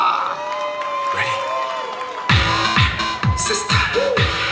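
A crowd cheers and claps as a K-pop group is welcomed onto the stage at a Christmas party concert, first under a voice and then with loud rhythmic thumps of music.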